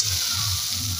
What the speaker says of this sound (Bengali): দেখতে লঙ্কা আর হলুদ দিয়ে একটু ভেজে নিচ্ছি